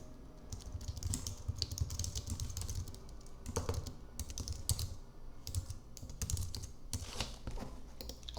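Steady, close keystrokes clatter on a computer keyboard in uneven runs with short pauses, while an online form is filled in.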